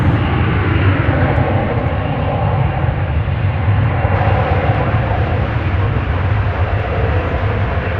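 An American Airlines Airbus A321 airliner at DFW Airport, its engines giving a continuous, loud, low rumbling roar that holds steady and close throughout.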